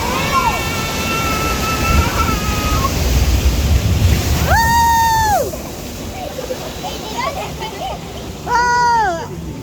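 Boat ride on the Singapore River, with waves and water sloshing against the hull, while children and adults shriek and exclaim excitedly over the splashing, voices rising in bursts.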